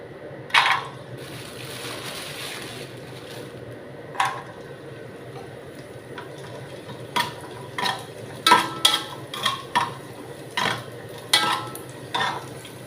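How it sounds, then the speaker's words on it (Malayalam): Cashews and raisins roasting in ghee in a large pan, with a spoon scraping and stirring in a string of sharp, close clinks and scrapes over a faint, steady frying hiss. "അപ്പോൾ അതിൽ അണ്ടിപ്പരിപ്പ് മുന്തിരി ഒന്ന് ഫസ്റ്റ് നമുക്ക് വറക്കാം."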